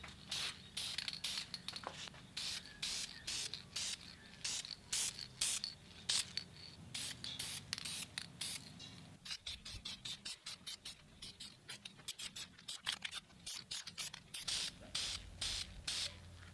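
Repeated short bursts of black spray paint hissing from a can onto a BMW E36 brake caliper, each burst a broadband spray separated by brief pauses, steady and close throughout.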